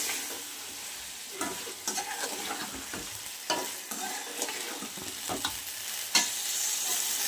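Taro pieces with spices being stir-fried in a pan, a continuous sizzle broken by repeated scraping and stirring strokes of a spoon, close and fairly loud, with no voices.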